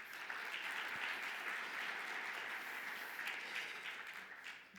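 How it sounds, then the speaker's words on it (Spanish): An audience applauds a panelist at a green hydrogen regulation panel, a continuous wash of many hands clapping, soft and distant, held steady for several seconds before tapering slightly. "Un aplauso para Carla."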